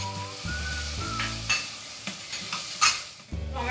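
Tomatoes sautéing in a pan with onion and ginger-garlic paste for a vegetable pulao, with a steady sizzle broken by several stirring scrapes over a low tonal hum.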